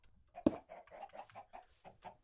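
Soft, low clucking from chickens in Minecraft, scattered short calls at a quiet level, with a slightly synthetic, game-like quality and no voices.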